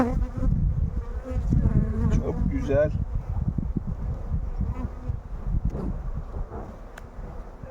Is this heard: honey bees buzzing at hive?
yes